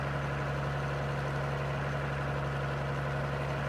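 A Kenworth K100 truck in Farming Simulator 22 idles on its default engine sound, a constant low, droning hum with no change in pitch or rhythm.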